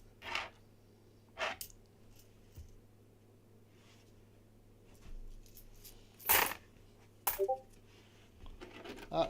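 Coins dropped one at a time onto a stack during a coin roll hunt, a few sharp metallic clinks spaced apart over a quiet background.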